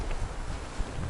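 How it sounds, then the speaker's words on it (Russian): Wind roars steadily with low rumbling gusts and a broad rushing hiss, like strong wind, about 15 metres per second, moving through taiga forest trees. "Смотрите, такое ветрище, 15 метров в секунду сегодня."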